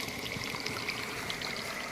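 Water runs steadily into a pipe on a farm, a continuous rushing trickle at moderate level with no voices.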